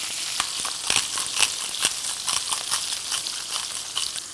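Potatoes fry in hot bacon grease with a steady, bright sizzle and crackle, dotted with sharper pops and spatters. The sizzle stays close and fairly loud for its whole length with no talking over it.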